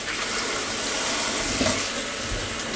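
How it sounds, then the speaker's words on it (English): Fresh produce rinsed under a running kitchen tap, a steady, close rush of water with a brief splash near the middle. "Wash them thoroughly."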